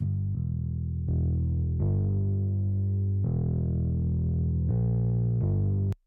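A bass line of sustained notes sent through an MPX effects processor, with a processed, slightly distorted, chorus-like effect, changing pitch every second or so, close and steady.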